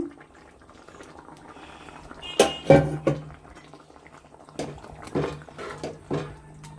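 Gongura leaves added to a curry in a pan, with a few sharp sizzling splashes and clattering stirs against a quiet simmer, close and moderately loud.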